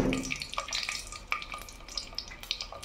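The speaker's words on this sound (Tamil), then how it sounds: "பூண்டு பொரிஞ்சிடுச்சு" Garlic frying in hot oil in a pan for a tamarind curry with ivy gourd, a soft steady sizzle broken by brief stirring clinks and crackles, close by with no talking.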